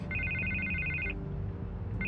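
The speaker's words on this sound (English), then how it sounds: "I can't get the phone to stop ringing." Telephone ringing in a Batman Telltale Series game scene: a bright electronic double-trill ring runs for about a second, pauses, then starts again, over a low hum of background music.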